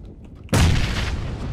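A grenade explodes in a video game, a loud sharp boom that hits suddenly after near silence and then rumbles and decays over the following second.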